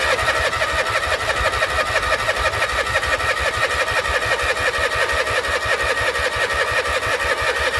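An old tractor engine runs at a steady, fast-pulsing idle, loud and close, with a mechanical clatter throughout and no pauses.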